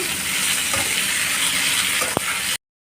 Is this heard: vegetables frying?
yes